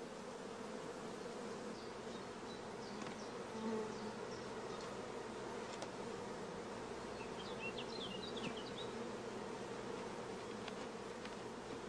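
Honey bees swarm around hive frames during queen rearing work, a dense, continuous buzzing hum, close and even, with a few faint clicks and knocks and no talking.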